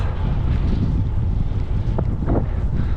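Strong headwind roars and buffets straight into the microphone while riding along a concrete road, a steady, loud, rumbling gust with no voices.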